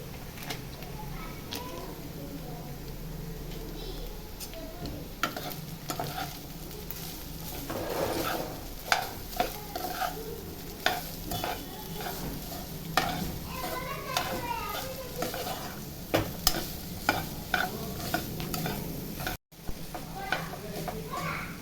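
Fried rice tossed with masala powder sizzles in a pan while being stirred, with soft continuous frying and repeated scraping clinks of the spoon against the metal, a voice speaking intermittently over it.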